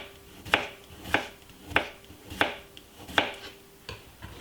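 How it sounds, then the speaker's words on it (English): A sharp knife finely slices vegetables on a board, about seven crisp, evenly spaced chops in a steady rhythm, close and clear, with no talking. "cut it very, not too thick, very finely. So it's good to use a sharp knife."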